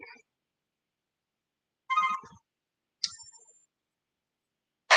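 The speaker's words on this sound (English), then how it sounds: "I'm going to mute my other phone" A phone ringtone sounds in short separate bursts, one faint at the start, then clearer chimes near the two- and three-second marks and a loud one at the end, with silence in between.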